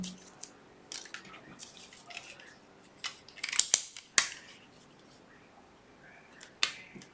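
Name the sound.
scissors cutting a window in a paper box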